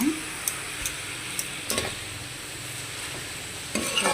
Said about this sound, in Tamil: கடைசியில் நான் கொஞ்சம் பருப்பு சேர்க்குறேன்.